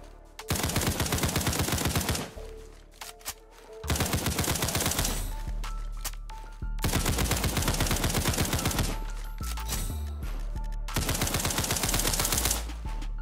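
Rapid automatic gunfire from the no-recoil gun in the Roblox game Criminality, loud and close, fired in long sustained bursts separated by short pauses.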